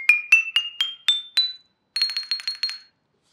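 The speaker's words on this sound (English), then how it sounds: "a lithophone is really any percussion instrument made out of stone" A Studio 49 lithophone with stone discs is struck: six clear, ringing bell-like notes rising step by step, then after a short pause a quicker run of about seven bright tapped notes at a higher pitch.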